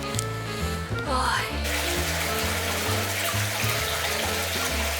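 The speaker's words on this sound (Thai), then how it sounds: "ขอแช่ออนเซ็นก่อนนะครับ" Steady flowing water pours into a Japanese onsen hot spring bath, a continuous splashing stream heard up close, with music playing underneath.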